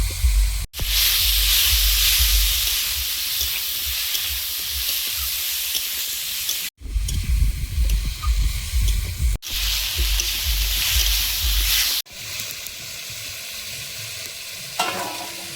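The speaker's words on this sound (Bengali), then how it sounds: "সবজিটা ভেজে নিয়েছি" Cauliflower and potato fry in a pan with slit green chillies, turmeric and salt: a loud, close, continuous sizzle with stirring, broken by a few abrupt cuts.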